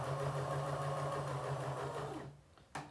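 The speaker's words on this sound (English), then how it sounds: "I'm going to stitch to the corner with my needle down." A domestic sewing machine runs at a steady hum, stitching fabric toward a corner, then slows to a stop, followed by a brief click near the end.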